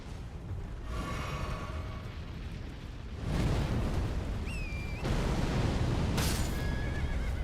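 Torrent, the spectral horse in the video game Elden Ring, gives a loud, sharp whinny amid heavy battle noise, with booming bursts and rumbling impacts around it and no speech.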